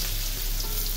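Onion frying in leftover hilsa fish oil, a dense, steady close-up sizzle with no talking.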